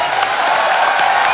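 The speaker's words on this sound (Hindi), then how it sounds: "इरफान भाई के लिए जोरदार तालियां" A studio audience on The Kapil Sharma Show applauds loudly for the guest Irfan Khan, a steady wash of dense, continuous clapping with faint crowd noise underneath.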